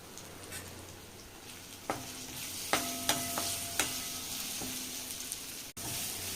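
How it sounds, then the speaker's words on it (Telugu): Tomato frying in a pan with coriander powder and chili powder for raw banana kofta curry: a soft, steady sizzle with several sharp spatula clinks against the pan and a brief thump near the end. "ఇవి కొంచెం ఫ్రై అవుతున్నాయండి."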